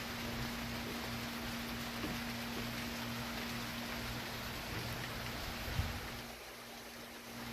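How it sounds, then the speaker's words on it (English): Steady rain during a small squall on Dauphin Island, Alabama, a dense even hiss of falling drops around a house near the water, with a constant low hum underneath and one brief thump near the end. "the rain intensity's picked up"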